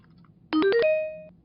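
A telephone ringtone plays alone during an office call: a short rising sequence of three or four electronic tones ending on a held note, loud and close against a quiet background.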